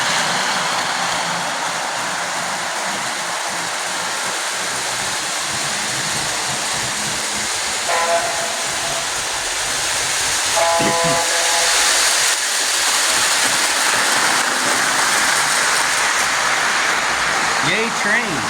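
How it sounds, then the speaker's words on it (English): A model train set runs with a steady hiss of steam effects and a few short whistle toots, while voices chatter over the continuous mechanical sound. "Yay trains."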